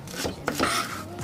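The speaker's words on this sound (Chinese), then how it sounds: "再切点香菜跟那个小葱" A knife chops fresh cilantro and scallions on a cutting board in a few close, sharp strokes, heard alone without talk.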